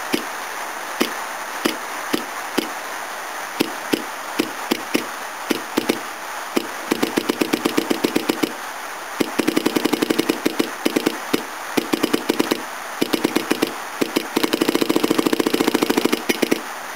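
An old electric ticker-type fuel pump with worn, unhealthy contact points clicks away on its own, starting as sparse irregular ticks and building into faster buzzing bursts as the points chatter, fairly close and with no talk.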